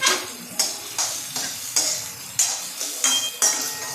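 Onion with asafoetida and turmeric being stirred in a pan for zunka, a regular series of about nine sharp metallic scrapes and clinks of a spoon against the pan, close and alone.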